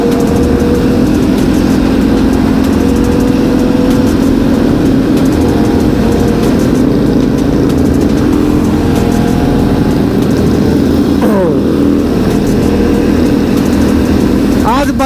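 Motorcycle engines run and rev on a hill trail near Gurgaon, a loud continuous drone with a sharp rising rev near the end.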